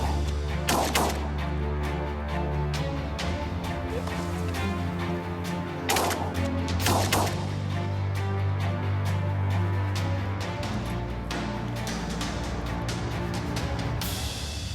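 Shotgun blasts crack out during a duck hunt over a flooded field, three sharp, loud reports at uneven intervals, with a geese and duck chorus honking steadily in the background.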